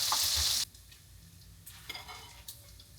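Bacon frying in a skillet, a loud close sizzle for the first half-second, then quieter crackling with occasional pops and light scrapes.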